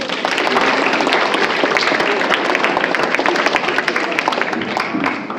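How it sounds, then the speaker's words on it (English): Sustained applause from a school assembly audience at a Republic Day celebration, honouring students who performed, a dense, steady wash of many hands clapping at full strength throughout with no gaps. "Let us give them a big round of applause."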